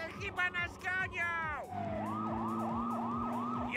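Voices talk excitedly at first, then a police siren takes over during a car chase, wailing in repeated rising and falling sweeps at steady, fairly close volume.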